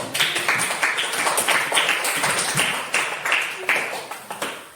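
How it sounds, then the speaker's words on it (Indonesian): A crowd claps for the school principal at a school session at SMP Negeri 3 Satu Atap Menanggu, a steady burst of hand claps with sharp, regular peaks that carries on without voices. "Kita beri aplaus untuk beliau"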